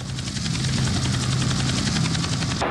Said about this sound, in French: C'est le cas de cette équipe de télévision dans un hélicoptère qui est sur le point de se cracher.